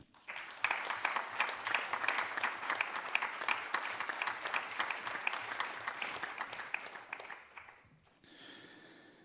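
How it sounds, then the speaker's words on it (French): An audience at a science and social-media debate applauds steadily for about eight seconds, a dense even clapping that fades out near the end, followed by a brief quieter room tone. "Merci d'accueillir et d'applaudir Gérard Berry."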